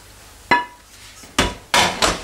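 A high-quality frying pan is set down and handled in a home kitchen while preparing Swiss rösti, giving three or four sharp metallic knocks and clanks close by, with no talking.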